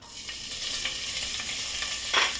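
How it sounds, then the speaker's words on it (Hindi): Onions frying in hot oil with spices in a pressure cooker for egg biryani, giving a steady close sizzle with a few stirring scrapes and a brief louder burst near the end. "प्याज को मैं अच्छी तरह भून लेती हूँ।"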